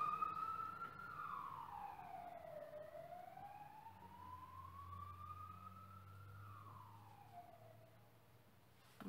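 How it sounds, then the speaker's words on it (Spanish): A passing ambulance siren wails with slow rising and falling sweeps over a low traffic rumble, moderately distant and fading slightly toward the end; no one speaks. "Una ambulancia con la sirena encendida"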